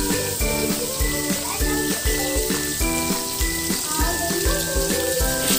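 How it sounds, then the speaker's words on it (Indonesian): A ground paste of chili, turmeric, ginger and candlenut hits hot cooking oil and fries with a steady, dense sizzle, carrying on under a rhythmic backing of music throughout. "Ini minyak goreng sudah saya panaskan. Kemudian bumbu yang saya ulek tadi saya cemplungkan."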